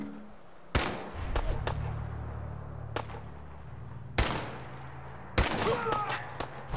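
Gunfire in Fallout 4 during a no-scope headshot, with several sharp reports spread across the stretch, two louder bursts near the end over a steady low hum of game ambience.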